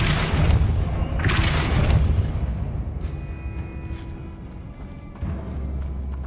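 A Depulso force spell cast in Hogwarts Legacy releases a heavy booming blast with a deep rumble, followed by quieter magical shimmer and ringing tones, then a second low thump near the end.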